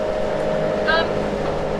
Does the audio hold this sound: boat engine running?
yes